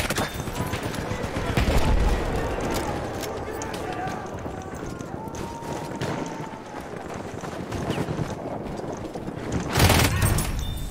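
Gunfire rattles through a chaotic Battlefield 1 multiplayer match, sustained shots and battle noise layered with someone talking excitedly over them, plus a heavier burst near the end.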